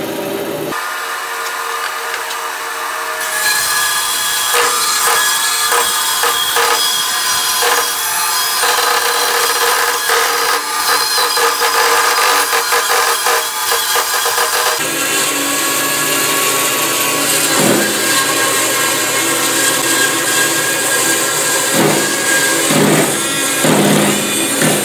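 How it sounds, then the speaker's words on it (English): A bandsaw slices steadily through a log to make lumber, a loud continuous rasping cut of wood that shifts in tone partway through, with no talking. "Now we're back to the bandsaw, and we'll cut another piece."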